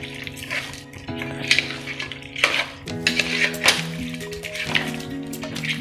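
Mutton pepper masala is stirred and fried in a pan, with a spoon scraping and clattering against the metal in irregular strokes over a soft sizzle and a steady background hum.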